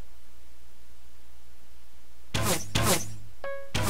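Arrows from a bow strike a zombie in Minecraft during a Dwarves vs Zombies match: after a quiet stretch, two sharp thunking hits land in quick succession, a short bright ringing tone follows, then another thud.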